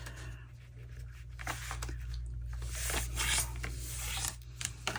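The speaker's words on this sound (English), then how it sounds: "then we want to fold our envelope up." Sheet of paper being folded and creased into a window envelope, giving a soft, continuous rustling and rubbing close up, with brief scraping strokes as the folds are pressed down, no talking.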